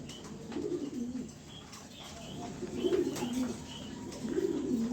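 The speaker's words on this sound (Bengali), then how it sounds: "তো শুরুতেই এক পেয়ার সবজি কবুতর দেখাবো।" A pair of pigeons coo softly in repeated low throaty phrases, fairly close amid steady background hiss and faint chirps, with no speech.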